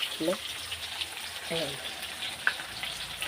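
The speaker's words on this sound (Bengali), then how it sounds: "আর এদিকে আলুটা তো ভাজা হচ্ছে।" Potato pieces fry in hot oil in a home kitchen, giving a continuous bubbling sizzle close by. Brief voice-like sounds rise over the hiss twice, and a faint clink is heard near the end.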